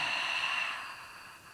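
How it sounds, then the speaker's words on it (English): A single drawn-out yawn exhaled on a long airy breath during a home Gyrotonic stretching session, fading gradually to quiet. "It feels so good to yawn."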